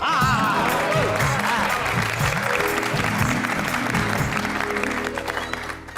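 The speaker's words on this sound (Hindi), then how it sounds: "इसी बात पे बापूजी के लिए जोरदार तालियां हो जाए।" Sustained applause for Bapuji in a sitcom scene, steady group clapping with a musical sting or tonal effect layered over it, tapering off toward the end.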